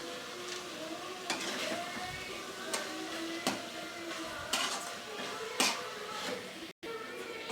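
Washed dried fish goes into cooked brinjal in a pan, giving a steady close sizzle with a series of sharp spatula scrapes and knocks against the pan.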